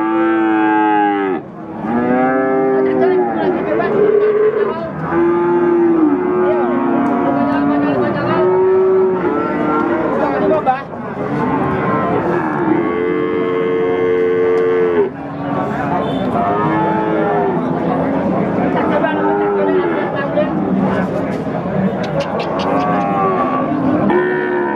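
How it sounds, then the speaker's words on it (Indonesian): PO cattle at a livestock market lowing over and over in loud, drawn-out moos, several animals overlapping in a continuous noisy chorus. "Ini sapi PO."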